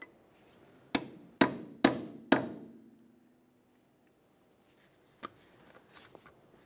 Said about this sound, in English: Now we'll use a hammer and chisel and gently separate the control arm right in this area.